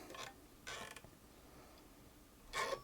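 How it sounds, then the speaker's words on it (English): A vintage 1940 Singer 81K73 industrial overedger runs over fabric in three short, faint bursts of mechanical clatter and creaking, with quiet pauses between them. "we're on the fabric now, should be sewing"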